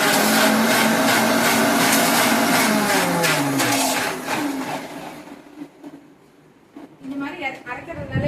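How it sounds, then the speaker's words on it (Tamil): A kitchen mixer grinder whirs loudly with water and a drop of cleaning liquid sloshing inside its jar, a dense grinding roar that runs for several seconds, then winds down and leaves quieter clatter. "மிக்ஸியை மூடிட்டு நீங்கள் அரைக்கணும்."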